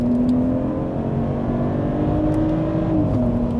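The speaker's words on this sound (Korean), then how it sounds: "지금 RPM을 최대한 올려놓은 상태에서 가속 페달을 끝까지 밟은 다음에 변속을 해볼게요" A Mercedes GLE 450 4MATIC SUV under full-throttle acceleration, its engine holding a loud, steady, rising drone before a brief dip in pitch at the gear change, heard from inside the cabin.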